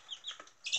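Young backyard chickens clucking in short chirpy bursts, a few soft calls followed by a louder, busier cluster at the end, close by with no talk.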